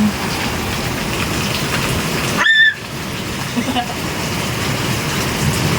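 Heavy rain and wind from a typhoon pour steadily on and around a small shop whose roof is being damaged, a loud continuous wash broken by a short sharp clatter midway.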